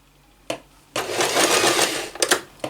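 A sewing machine stitching forwards, backwards and forwards again on cotton fabric for a ribbon, heard as a brief click, then a loud continuous mechanical whirr of about a second, then short choppy bursts as the direction reverses.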